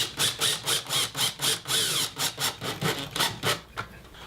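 A corded electric drill with a 1/8 inch bit pre-drills a pilot hole in wood for a garden stool, heard as a close, rhythmic series of rasping, pulsing bursts with a brief whining squeal partway through.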